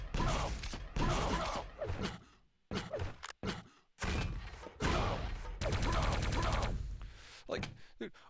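Rocket launcher explosions in Quake III DeFRaG trick-jumping runs, a string of loud, close blasts and thuds in uneven bursts separated by short gaps, with brief near-silence in the middle.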